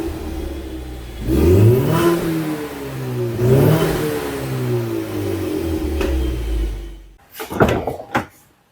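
Close-up dual exhaust of a 2016 Ford Mustang EcoBoost as the engine revs twice, each pass rising in pitch and falling back, then settling to a steady drone before a few short sharp blips and a cutoff.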